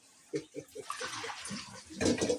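Buffalo sauce pours over stuffed chicken in a kitchen, a wet glugging and splattering stream with a few plopping spurts, fairly close and under some quiet speech.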